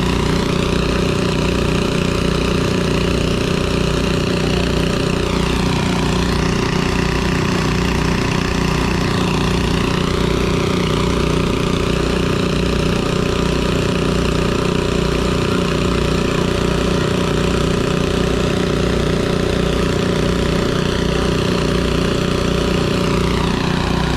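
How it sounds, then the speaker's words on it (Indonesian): A steady mechanical drone of two small water pump engines running continuously at close range, draining a sunken boat on the Martapura River in Banjarmasin, with a constant rhythmic thrum and no breaks. "menguras air kawan-kawannya menggunakan mesin pompa air 2 biji tuh"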